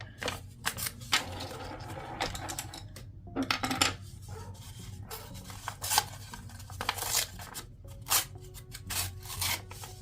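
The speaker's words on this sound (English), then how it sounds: "I'm going to very carefully rip the edges so that it's not, we have no machine cut edges here" Paper edges torn by hand, close irregular ripping and rustling bursts of varying strength with small rubbing sounds between, no talk.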